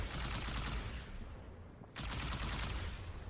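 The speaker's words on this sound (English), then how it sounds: "I'm gonna just operate this here plasma cannon" Plasma cannon in Halo 2 Anniversary firing rapidly: a dense, loud stream of repeated energy blasts that cuts out for a brief gap near the middle and then resumes at full intensity.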